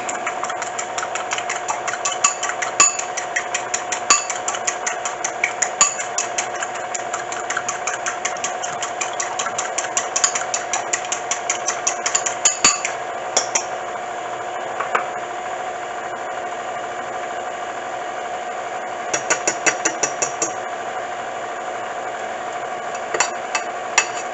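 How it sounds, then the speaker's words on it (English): Egg being beaten into a mix for Guyanese salara, rapid rhythmic tapping and clattering strokes repeating steadily over a constant motor hum, with brief pauses between bursts. "we're going to beat this egg together here"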